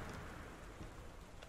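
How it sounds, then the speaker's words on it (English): Heavy rain in the video game Gone Home, a dense, loud, continuous wash of rainfall that fills the whole clip with steady noise and no talking. "The rain is so loud."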